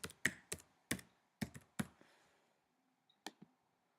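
Quiet, close computer keyboard keystrokes tap out a password, about nine separate clicks in an uneven rhythm with a short pause before the last two.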